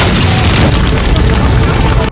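A bomb detonates in a film scene with rebels: a loud, sustained, rumbling boom fills the whole clip at close range, dense and continuous before cutting off abruptly at the end.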